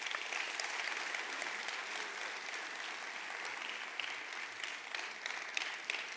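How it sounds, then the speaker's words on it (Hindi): An audience gives sustained applause as a guest is called onto the stage at a motivational event, an even wash of many hands clapping that continues for several seconds without pause. "एक जोरदार तालियां होनी चाहिए"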